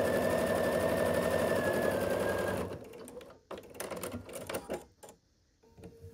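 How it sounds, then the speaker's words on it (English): Sewing machine stitching quilting fabric strips together for a quilted gift tag, a steady close mechanical whirr for a few seconds, then stopping, followed by scattered handling clicks and rustles. "So right now I'm just sewing the strips together."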